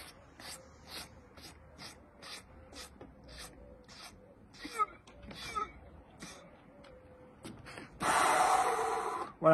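A person breathing in deeply to fill the lungs during a breathing and stretching session, with a series of short airy breaths and rubbing noises, then a loud sustained inhalation near the end.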